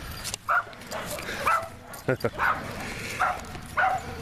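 A small dog barks and yips in short bursts spaced about a second apart, moderately close, over faint background noise.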